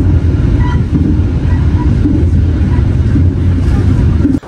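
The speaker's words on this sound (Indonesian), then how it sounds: "kereta api Logawa telah berangkat dari stasiun Rejoso" Logawa passenger train hauled by a vintage locomotive, heard from onboard on the run between Rejoso and Probolinggo, a loud, steady low rumble of wheels and carriage with microphone wind noise throughout.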